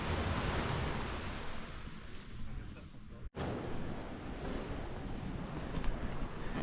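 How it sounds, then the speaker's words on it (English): Waves surge and wash below in a coastal sea cave on a Portuguese clifftop trail, a steady broadband roar mixed with wind buffeting the microphone, with a brief dropout midway. "You can hear the waves underneath"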